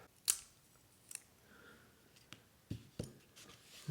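Plastic tabs on wrenches from a Notadumble guitar pedal kit snapped off by hand, several sharp dry cracks and clicks spaced out over a few seconds, close and fairly quiet with a faint background hiss.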